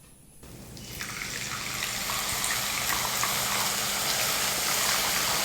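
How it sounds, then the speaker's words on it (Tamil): Milk poured over cooked carrots in a pot for carrot payasam, a steady rushing liquid stream that rises quickly after a quiet start and then holds at an even level, close by with no speech. "நம்ம கொஞ்சமா பால் சேர்க்க போறோம்."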